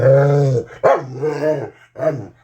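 A nearby dog lets out loud, drawn-out growls broken by sharp barks, in several bursts over a couple of seconds.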